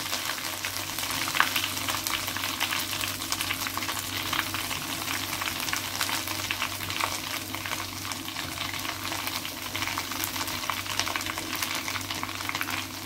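Herbs crackle and sizzle in hot homemade hair oil, a dense, continuous frying hiss with steady popping close by, keeping an even loudness throughout with no talking.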